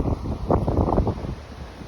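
Strong gusting wind buffets the microphone outdoors as a possible tornado forms over South Bend, Indiana, a steady low roar swelling briefly in the middle, with no voices.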